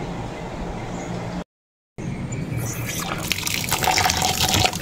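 Tap water runs while santol fruit is washed in a kitchen, a steady splashing stream that drops out briefly and then returns louder and brighter, gushing close by.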